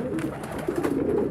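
Low, throaty cooing from a pigeon kept for breeding, heard close and alone in a steady rolling murmur with a slight swell partway through.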